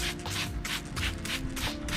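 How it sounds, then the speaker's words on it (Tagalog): Water sprayed onto soil sown with hot pepper seeds comes as a rapid series of short soft hissing bursts, about eight in two seconds, close by and fairly quiet. "Spray nyo ng tubig."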